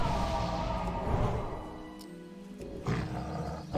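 A Night Elf druid in cat form lets out a deep, growling roar in World of Warcraft, a loud sustained snarl that fades out before a second, shorter burst near the end.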